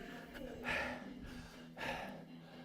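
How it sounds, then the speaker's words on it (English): Two heavy, gasping breaths during a workout of Russian twists, close but fairly quiet, spaced about a second apart with soft background noise. "Oh, heavy breathing"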